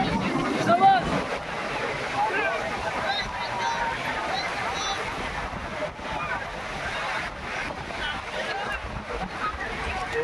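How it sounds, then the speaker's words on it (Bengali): Ocean surf rolls in with big waves on Cox's Bazar beach, a continuous roar with wind buffeting the microphone, while people talk nearby over the waves. "আপনারা সমুদ্র সৈকতের ঢেউগুলো দেখেন, বড় বড় ঢেউ আসতেছে।"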